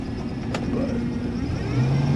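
A 1996 Impala SS with a swapped 6.0 V8, 4L80 transmission and stage 2 cam running with a steady low rumble, a brief sharp click near the start and the idle deepening toward the end.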